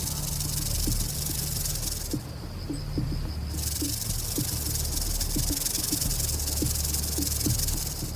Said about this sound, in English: When threatened or preparing to strike, the snake vibrates its tail up to 50 times a second, creating its characteristic sound.